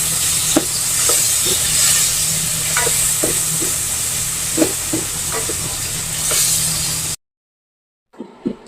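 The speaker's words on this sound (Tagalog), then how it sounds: "sigisa na natin ang upo" Bottle gourd with tomatoes sautéing in a pan for a Filipino ginisang upo dish, a steady close sizzle broken by scattered stirring scrapes and clinks, then a brief silence and two last soft knocks.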